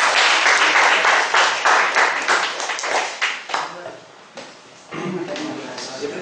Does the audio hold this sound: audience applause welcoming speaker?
yes